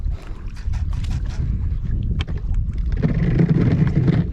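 Wind buffets a boat on a lake during fishing, a loud rumbling gust noise close to the microphone with small clicks and knocks, no talk.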